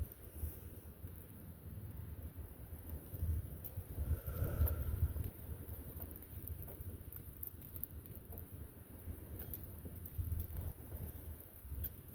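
Outdoor wind gusts buffet the microphone in low, irregular rumbles, strongest in one burst near the middle, with faint pattering beneath and no voices.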